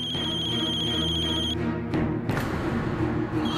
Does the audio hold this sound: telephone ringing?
yes